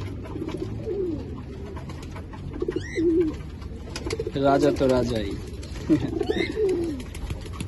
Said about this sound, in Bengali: এতগুলা কবুতর হচ্ছে নিচে নামে খাবার খাচ্ছে